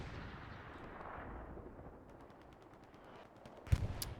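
Bombing run in the World War II shooter Hell Let Loose on the Omaha map, a long low distant rumble of explosions rolling on, then a sharp nearer blast with crackling gunfire toward the end.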